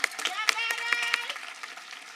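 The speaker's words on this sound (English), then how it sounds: "Please give these students a round of applause." At the Encore Academy 2021 graduation, a small crowd claps for the graduating students, with sharp, scattered hand claps and cheering voices mixed in, fairly close and moderately loud.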